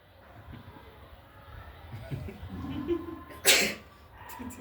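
A single sharp, brief sneeze bursts out once in a quiet indoor setting, preceded and followed by faint murmuring background sounds.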